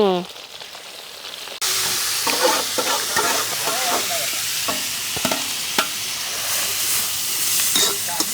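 Meat sautés in a little oil in a home kitchen pan, a steady loud sizzle starting abruptly and running throughout, with scattered clicks and scrapes of stirring.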